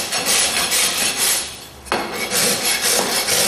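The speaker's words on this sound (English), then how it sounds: "touch it with the rasp" A farrier's rasp files a horse hoof during trimming in continuous, loud, close scraping strokes with one brief pause midway, no talking.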